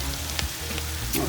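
Onions cook slowly in a pan with steak juice beside cube steak, producing a steady, close crackling sizzle with a few faint pops throughout.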